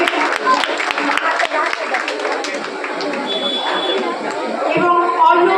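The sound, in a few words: audience applauding a student's exam result at an award ceremony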